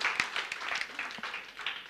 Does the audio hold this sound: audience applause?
yes